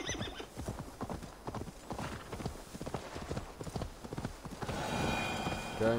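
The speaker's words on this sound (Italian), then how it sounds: "Oh, cavallo! Cavallo!" In Assassin's Creed Valhalla, hooves clip-clop in a fast, steady gallop, then a horse gives a loud whinny near the end, with faint background music.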